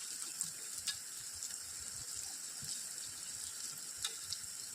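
Shreds of ridge gourd peel stir-fry in hot oil with a quiet, steady sizzle, broken by a few light clicks as a spoon turns them. The sound is close and faint, with no voices.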